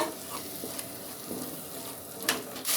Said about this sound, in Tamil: இப்போ இந்த தக்காளி நல்லா வதங்கி வரட்டும்.